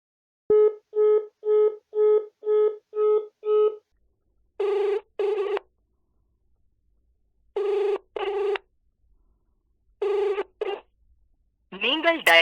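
An unanswered phone call rings out with a repeating electronic ringback tone in regular pulses, followed by pairs of tone bursts with long silent gaps and a rising electronic chirp at the end.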